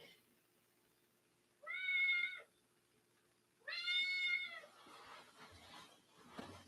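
Cat meowing on a homestead, seemingly stuck under something: two drawn-out, plaintive meows a couple of seconds apart, fairly near in a quiet setting, followed by faint rustling and shuffling.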